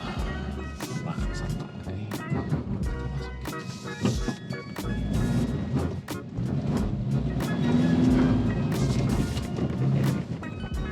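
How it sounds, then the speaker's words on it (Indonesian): A Subaru XV ploughing through deep mud in an off-road driving mode, with a steady engine drone, thumps and splashing knocks from the wheels, while someone talks over it. "Ternyata effortless banget pakai si Subaru ini, Subaru XV, buat ngelewatin lumpur-lumpur."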